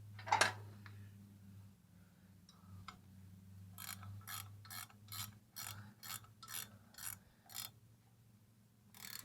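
A ratcheting gear wrench clicks in a quick run of about ten even bursts while working on a Cushman golf cart, close and fairly quiet, over a low steady hum and with no talking.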